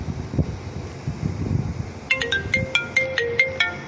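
A synthesized iPhone-style name ringtone for a phone starts partway through, a bright, repeating melodic chime pattern of rising tones that rings out loudly over faint background hiss after a quiet opening.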